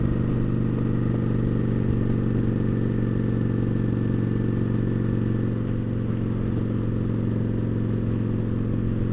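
Kawasaki Vulcan 900 Classic LT motorcycle out on a ride, its engine giving a steady low rumble with a constant drone of road and wind noise, unbroken from start to finish.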